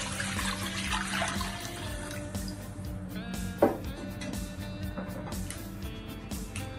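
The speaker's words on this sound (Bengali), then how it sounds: "2 লিটারের মতো পানি দিয়ে দিচ্ছি।" About two litres of water poured into a pan for a chicken mushroom carbonara pasta, heard as a steady running, splashing water sound at moderate level throughout, with a brief sharper knock midway.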